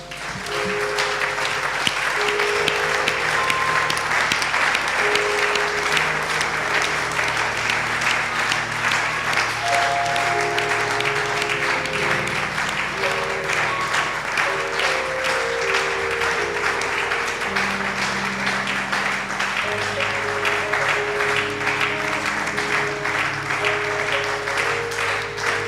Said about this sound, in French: Est-ce que nous pouvons maintenant acclamer pour le Seigneur Jésus?